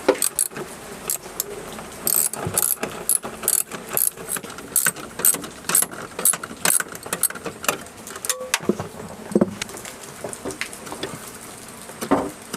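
A wrench ratchets and clicks in quick irregular bursts while nut bolts on the wiper motor of a Piaggio Ape auto rickshaw are loosened, close and fairly faint, with no voices.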